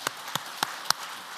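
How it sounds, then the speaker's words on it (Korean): Four sharp, evenly spaced claps sound faintly in a quiet room during a church men's fellowship officers' prayer meeting, with nothing else heard around them. "2025년 한 해를 지켜주신 하나님께 박수드리겠습니다"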